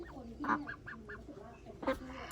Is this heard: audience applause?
no